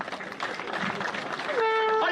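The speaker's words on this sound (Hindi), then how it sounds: "हमारे जननायक माननीय अशोक गहलोत साहब का तालियों की गड़गड़ाहट से" A crowd at an Indian Congress party political event claps and cheers in a dense, continuous wash of applause, with a sustained high tonal whine rising near the end.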